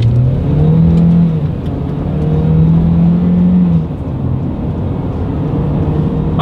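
A 2022 Chevrolet Equinox all-wheel-drive SUV accelerating hard along a straightaway, its engine droning loud and steady from inside the cabin, pitch climbing and then dropping at a gear change before rising again.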